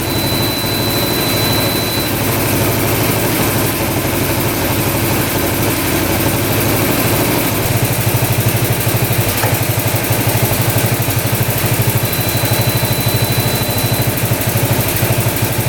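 The engine of a 1960s hydraulic 6x6 tank, left sitting for years, runs at a steady loud idle, a continuous rumbling drone that roughens slightly partway through, with no talk.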